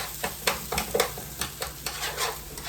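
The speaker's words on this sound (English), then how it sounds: "Oh, this rice over here frying, boy." Rice sizzles and crackles in a hot pan while a spoon scrapes and stirs in quick, regular strokes.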